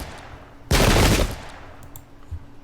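A single loud musket volley from massed troops in the Pike and Shot video game cracks out as one dense burst, then quickly fades into a short rumbling tail.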